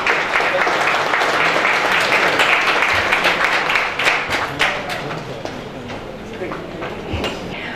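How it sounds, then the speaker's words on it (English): Audience applause at the closing ceremony of an international conference, a steady dense clapping from a large hall crowd that holds loud for several seconds, then eases slightly while murmured voices continue beneath it. "A huge round of applause for that."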